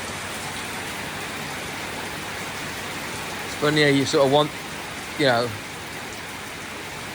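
Steady rain hisses outdoors as a broad, even wash that runs through the whole stretch, while someone talks nearby in two short bursts over it.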